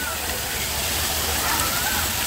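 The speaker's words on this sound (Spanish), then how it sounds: "Miren esa cascada, ¿ves? Para refrescar el ambiente." A park waterfall pours in a dense, constant rush of falling water, fairly loud and unbroken, with human voices mixed faintly into the background.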